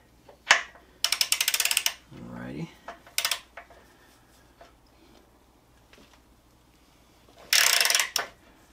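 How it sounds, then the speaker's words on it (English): A Harbor Freight half-inch ratcheting wrench loosens a 19 mm nut on a Yamaha V-Star 1300 front wheel, giving several close, loud bursts of rapid ratchet clicks separated by pauses, with brief clanks between. "this is a Harbor Freight half inch ratcheting wrench that I love"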